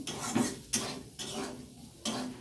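A spoon scraping and knocking in a pan as spiced pasta ingredients with turmeric and cumin are stirred, a few distinct scrapes and clinks in an uneven rhythm, close and quiet, without speech.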